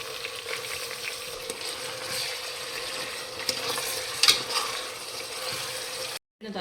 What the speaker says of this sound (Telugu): ముక్కలు వేగే వరకు బాగా కలిపెట్టుకోవాలి.